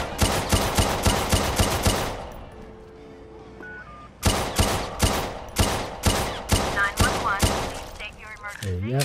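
Rapid gunfire in the video game Watch Dogs 2, loud close bursts of repeated sharp shots in fast rhythmic volleys, with a short lull of quieter game sounds between them.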